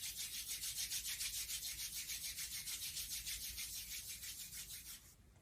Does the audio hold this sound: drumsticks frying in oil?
no